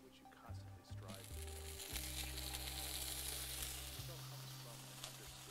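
Sea bass fillet, cooked sous vide, sears in a hot pan with a steady, close sizzle and hiss that holds for several seconds, while a person talks over it.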